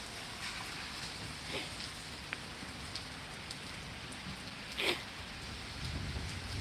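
A thunderstorm in Pittsburg, Kansas brings a steady, soft hiss of rain with a few faint scattered crackles and drips, distant and low in level, with no distinct thunder clap.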